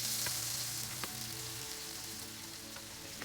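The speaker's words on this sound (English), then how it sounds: "Melt the butter." Butter melts and sizzles in a pan with fish fillets, a steady close hiss of frying with faint crackles and spits throughout, no voices.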